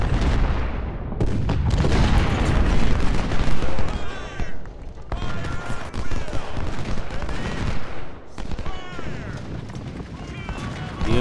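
Continuous gunfire and volleys of musket fire from a Civil War strategy game battle, dense crackling fusillade with occasional booms throughout, while someone talks over it.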